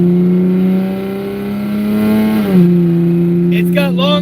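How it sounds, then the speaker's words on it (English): A BMW E36 M3 with straight-pipe long-tube headers idles and blips with a loud, raspy drone, the pitch dipping and rising once, while someone talks over it from inside the car. "It's a little raspy because it's got straight pipe headers."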